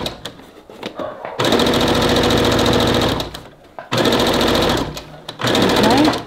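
Sewing machine stitching a bagged-out seam on a polyester kimono-style jacket, running loud and steady in bursts of several seconds, with a short pause and brief quieter stretches between runs.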